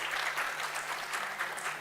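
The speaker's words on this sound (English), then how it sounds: "Can we have a round of applause for" Steady, dense audience applause at a finance conclave, many hands clapping together in a continuous, even roar with no pauses or speech.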